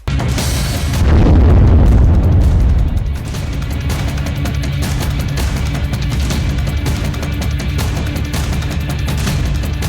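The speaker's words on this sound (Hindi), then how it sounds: "यूक्रेन के इलाके में एक धमाका।" A blast in Ukraine erupts as a loud, deep boom that swells for about two seconds, then settles into a long rumbling roar of low noise that fills the rest of the clip.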